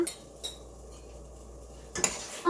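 A spoon scraping and clinking against a cooking pot while stirring ground turmeric, coriander and cumin into a mixture; a few sharp metallic knocks, near and fairly quiet, with no talking.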